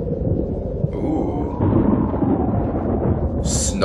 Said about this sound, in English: Snowy and stormy.